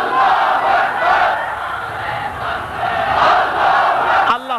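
A large crowd at an Islamic sermon gathering shouts the takbir slogan in unison, loud sustained roaring voices swelling and falling in waves over several seconds.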